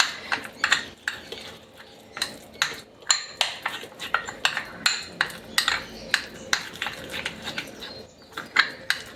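A spoon clinks and scrapes rhythmically against a bowl while powder is worked into a thick paste for a cracked-heel remedy, quick close strokes repeating steadily.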